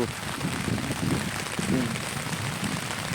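Heavy rain falling over farm fields, a dense, steady hiss of drops hitting surfaces that continues unbroken at a moderate level.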